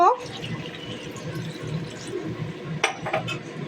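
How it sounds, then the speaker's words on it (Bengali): Water poured into a wok of spiced potato curry, a close splashing, gurgling pour with a few bright clinks near the end, and no talking. "মশলাটা ভালো কষানো হয়ে গিয়েছে এবার জল দেব"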